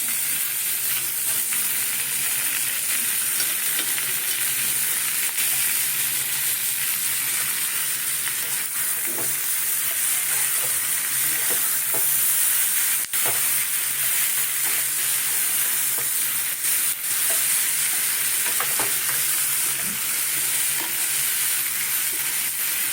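Eggplant fries in a hot pan with vegetables for a red amaranth stem dish, a loud continuous sizzle running unbroken with a few faint stirring knocks and no voices.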